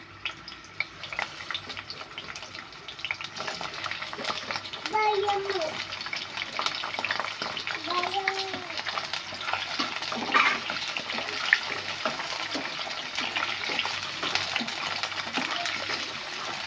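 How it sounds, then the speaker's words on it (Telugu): Boiled ivy gourd (tindora) pieces fry in hot oil with a steady, dense sizzle and crackle that runs throughout, close and fairly loud, with a few brief voice sounds in the background. "మనం ఇందాక ఉడికించి పెట్టుకున్న దొండకాయలు అయితే వేసుకొని కొద్దిసేపు అయితే ఫ్రై చేసుకుందాం"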